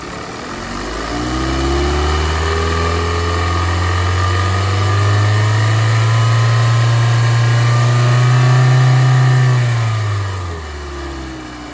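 A vehicle's engine revs up from idle, holds at a steady high RPM for several seconds, then drops back down, loud and close, with no talking, during a test comparing a crankshaft position sensor's AC voltage with RPM.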